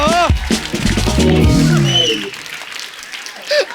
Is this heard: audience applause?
yes